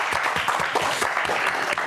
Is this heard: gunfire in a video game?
no